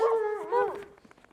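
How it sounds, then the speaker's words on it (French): A small female dog from a shelter for disabled animals, formerly mistreated in Mauritius, gives two drawn-out whining yelps close by. Quieter soft sounds follow. "elle s'appelle Clarence, c'est une petite chienne qui a été maltraitée du coup à l'île Maurice."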